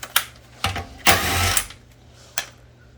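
Impact wrench spinning off the rear wheel lug nuts of a Volkswagen Beetle in a garage, with several short loud rattling bursts, one long burst in the middle, then a final short one.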